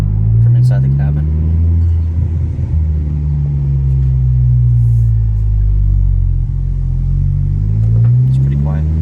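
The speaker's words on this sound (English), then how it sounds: "I'll hang onto the gears and give you guys some deceleration from inside the cabin" Inside the cabin of a 2020 Honda Civic Si fitted with a MAPerformance street exhaust, a steady low engine drone slowly falls and swells as the car decelerates in gear, loud and continuous throughout.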